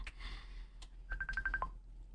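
A cellphone rings with a quick run of repeated electronic beeps that rise and then drop, at moderate volume over a low background hum, with no talk.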